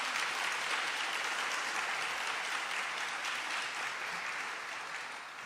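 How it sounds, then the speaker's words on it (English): Audience applause following the national anthem at a Memorial Day program, a broad, sustained wash of clapping from a large crowd that holds steady and slowly fades toward the end. "can we get another round of applause for that amazing national anthem?"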